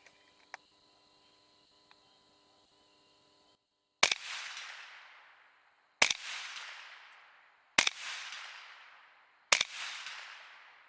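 A rifle fires supersonic Barnes 110 grain rounds at a steel plate at night: four sharp, loud cracks spaced about two seconds apart, each with a ringing decaying tail, after a quiet stretch of faint background hum.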